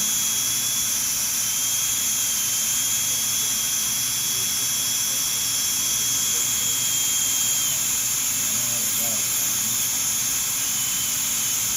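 A high-speed dental handpiece with a large burr whines steadily as it shapes the embrasure of a porcelain veneer on an upper front tooth, a continuous piercing tone with airy hiss throughout, loud and close, no talk.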